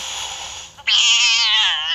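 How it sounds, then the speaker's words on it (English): Mrs. Norris, the cat in the Hogwarts Mystery video game, lets out a loud, drawn-out angry yowl after a quieter, wavering lead-in. "Ooh, that's an angry kitty."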